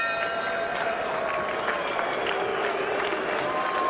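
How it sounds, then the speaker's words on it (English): Crowd at a professional boxing match voicing disapproval, a loud, dense, continuous roar of many voices with scattered shouts and whistles running the whole time. "Crowd showing some disapproval."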